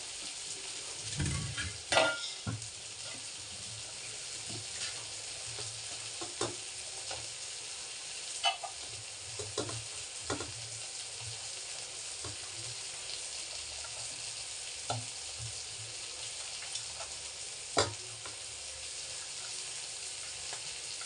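Spiced masala sautés in a pan as soaked, squeezed puffed rice is stirred in for kara pori. A continuous sizzle runs under occasional spoon knocks and scrapes against the pan, with no talking.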